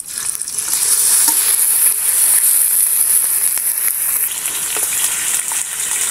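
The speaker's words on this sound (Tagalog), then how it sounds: "Habang ginigisa po yung karne" Meat sautéing with garlic and onion in a hot pan for spicy adobo rice, a steady bright sizzle that stays loud and close throughout, with a few soft scrapes of stirring and no voices.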